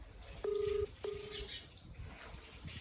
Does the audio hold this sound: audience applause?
no